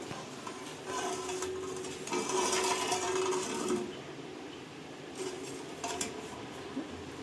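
Spoon stirring semiya (vermicelli) and milk in a pot, producing continuous light metallic scraping and clinking at moderate closeness, with no talk.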